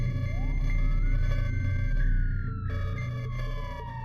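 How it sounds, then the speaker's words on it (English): An emergency alert siren wails, rising and holding over a loud low rumble, sustained and steady with no voices. "I heard the siren."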